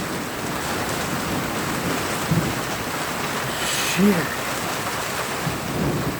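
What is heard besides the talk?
thunderstorm with heavy rain and thunder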